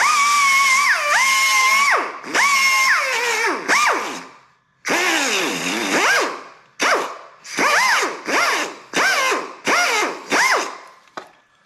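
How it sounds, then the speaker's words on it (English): A VW T4 steering lock part having its head ground flat: a loud, close, whining grind that rises and falls in pitch, cutting out repeatedly in short bursts with brief gaps between passes. "First I should grind this head flat."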